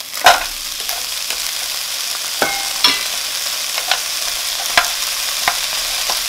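Shrimp frying in a pan for shrimp fried rice, a bright, steady sizzle with sharp, irregular clicks and scrapes of a utensil stirring, close by, with no voices.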